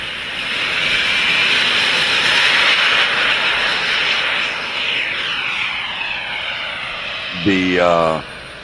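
A model airplane turbine engine runs with a steady loud broadband roar and high whine, holding for several seconds before a rising tonal sweep near the end; people talk over it.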